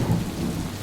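Thunder rumbles low under steady rain, dense and continuous for a brief moment, with no voices.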